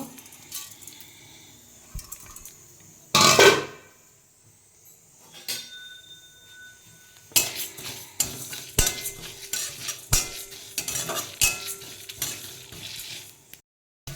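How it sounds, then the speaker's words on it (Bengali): Dried red chillies, mustard seeds, fennel, coriander and cumin are dry roasted in a kadai, heard as a sharp rattle followed by repeated scraping stir strokes and light clinks against the pan, close and fairly quiet. "এটা আমি কড়াইতে এবার ভেজে নেব"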